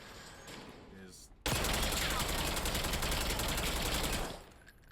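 Rapid automatic gunfire in the Warzone battle royale, a sustained burst of about three seconds that starts abruptly and cuts off, following a stretch of someone talking.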